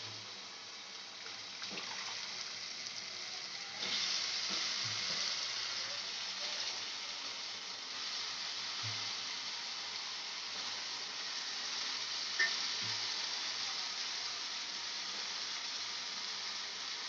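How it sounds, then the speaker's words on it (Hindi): Onion greens (kande ki bhaji) fry with onion and tomato in a pan, a steady close hiss and sizzle that surges briefly as the greens go in, with faint scattered clinks throughout. "अब इसमें हम ये कांदे की भाजी को डाल देंगे"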